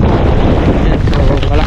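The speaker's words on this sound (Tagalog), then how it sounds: "So malakas yung hangin mga ka-asters dahil sa habagat." Strong southwest monsoon wind roars steadily across the microphone in the highlands of Santican, Danao, Cebu, loud and continuous with a faint undertone of voices.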